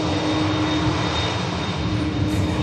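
An aircraft engine at Manchester Airport gives a steady, loud, close roar with a faint constant whine, unbroken across the whole stretch.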